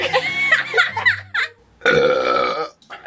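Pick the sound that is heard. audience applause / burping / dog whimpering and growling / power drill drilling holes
burping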